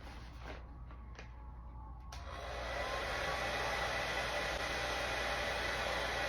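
A hair dryer set to high heat on low speed blows hot air into a bag over a wig, a steady close whooshing hiss that switches on after a couple of quiet seconds and keeps going.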